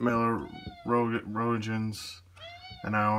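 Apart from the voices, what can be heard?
cat meowing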